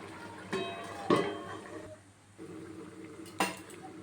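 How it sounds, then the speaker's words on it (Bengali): A metal plate set over a pot cooking pumpkin with red amaranth: a few soft metallic clinks and clatters, quiet and close, spaced over a few seconds against a low background hum. "তো তার জন্য আমি আবার থালাটা ঢাকা দিয়ে দেবো।"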